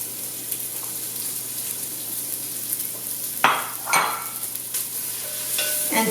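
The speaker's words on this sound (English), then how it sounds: "we're going to start with a really hot pan and some toasted sesame seed oil. To that, I'm going to be adding in some red onions." Red onions frying in a very hot pan with toasted sesame oil, giving a steady soft sizzle with a few louder stirring scrapes partway through, close and alone with no voices.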